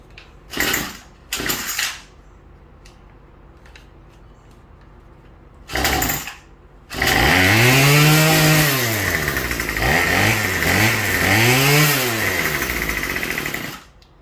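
A small two-stroke weed eater that sat unused for over four years coughs through a few short pull-start bursts, then catches and runs loud and close, its engine note revving up and down unevenly.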